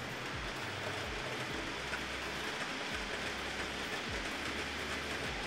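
Train convoy rolling steadily past, hauled by a Spanish-built Mabar locomotive, with a continuous loud rumble and wheels giving repeated clickety-clack beats on the rail joints.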